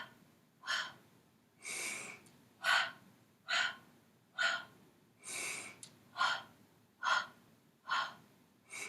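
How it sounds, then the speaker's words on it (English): Close, audible breathing during a Pilates exercise: a regular series of about nine sharp breaths in and out, evenly spaced and quiet, with no talking. "Big breath in."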